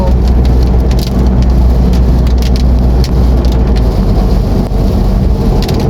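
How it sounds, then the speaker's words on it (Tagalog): Heavy rain drums on a moving car while it drives along a road lined with acacia trees. The roar is loud, dense and continuous, with patters of drops and a low rumble of road noise beneath, and no one talks. "Maulan pa naman ngayong araw."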